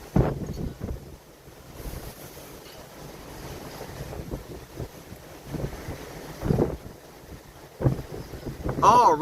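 Strong storm wind in South Australia roaring and buffeting the microphone, gusting unevenly with rumbling surges and occasional louder blasts, close and loud, with faint voices partly buried beneath it.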